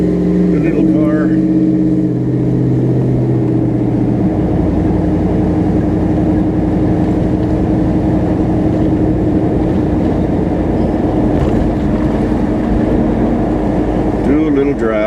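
A car cruises along a road with a steady, loud, continuous engine and tire drone heard from inside, holding even throughout after a brief shift at the start.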